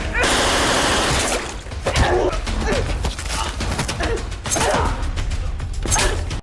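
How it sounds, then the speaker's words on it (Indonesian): Film gunfire in an action fight scene: bursts of sharp shots and rapid volleys crack in quick succession, loud and close, mixed with clattering mechanical noise. "dari Asih, ia tak segan-segan menarik pelatuknya sehingga ya, tewasnya Min Min"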